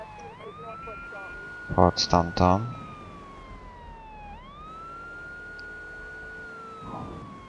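A police car siren in the video game Grand Theft Auto III wails in a steady rising and falling tone through most of the clip, with a short burst of talk near the middle.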